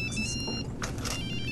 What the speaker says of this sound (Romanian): telefon care vă sună.